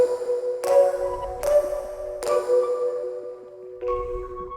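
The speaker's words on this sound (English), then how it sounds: "when you put that together with the bell, here's what that sounds like" Bell tones strike one after another in a slow melody, each ringing and sustaining with a shimmering, slightly detuned chorus quality and soft reverberant tail.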